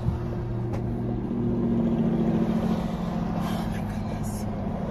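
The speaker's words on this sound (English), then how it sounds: "He's pulling the van up onto the tow truck." A van being winched up onto a tow truck, with a steady low mechanical rumble and hum running throughout, fairly close, with brief voices talking over it.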